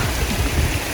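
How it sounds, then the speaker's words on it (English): Steady rain falling near Rock Gap on the Appalachian Trail, a dense even hiss with low rumbling texture, continuous throughout. "now it's really starting to rain"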